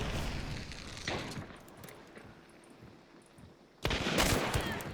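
Gunshots in Hunt: Showdown 1896: a sharp report early on, then quieter tension, followed by a loud burst of firing that carries to the end.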